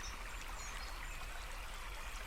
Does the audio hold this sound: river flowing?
yes